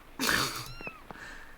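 A cat in the video game Pentiment lets out one short, fairly close meow-like cry, followed by a few faint chirps and a light tap.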